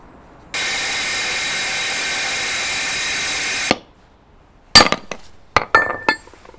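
A volcanic ash rock sample is fed through a rock saw and cut down toward a small block, giving a steady, loud whine that holds for about three seconds before stopping, then a few sharp clinks and knocks of the brittle stone being handled.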